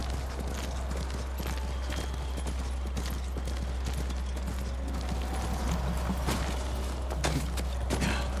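Horse hooves clop steadily in a galloping rhythm throughout, in the video game Ghost of Tsushima, set against a dense, noisy backdrop of other game sounds.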